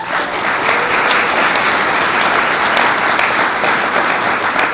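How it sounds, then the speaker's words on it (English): Continuous applause from an audience at a school board meeting honoring named students, dense and fairly loud clapping sustained throughout. "Please raise your hand when you hear your name for a nice round of applause for all of your hard work"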